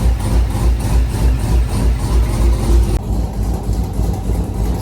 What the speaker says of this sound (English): Car is running, no check engine light.